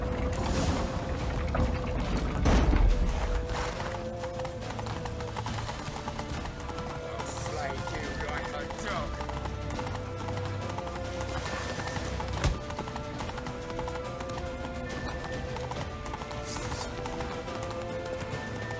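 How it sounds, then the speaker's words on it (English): Horse hooves clop at a galloping rhythm in The Witcher 3 during a tense chase toward a temple. The steady clatter runs under game music and shouting voices, with a louder thump near the start. "Grab a horse to the temple!"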